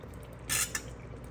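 Water pours briefly into a pan of curry gravy for doodhi kofta, a short, close splash and trickle lasting about a quarter second followed by a small drip, over faint kitchen noise.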